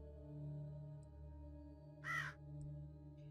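A single crow caw in The Huntsman: Winter Curse video game, one short harsh call standing out clearly over a quiet, steady low hum of background ambience.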